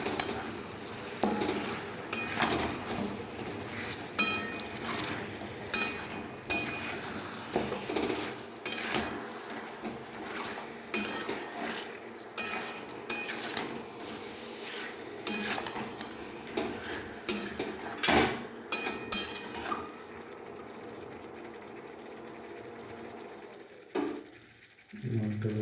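Chicken fried rice being stirred and fried in a pan at home, with steady scraping and clinking of a utensil against the pan and a sizzling background. The stirring comes in repeated bursts, near and fairly loud, with no talk.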